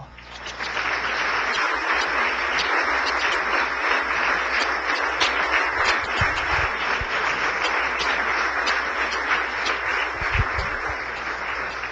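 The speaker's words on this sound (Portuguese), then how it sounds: "Vamos aplaudir o Senhor" Sustained congregational applause filling a Foursquare Gospel church in Taquaritinga, a dense, steady wash of many hands clapping at full strength for the whole stretch, with no voices rising above it.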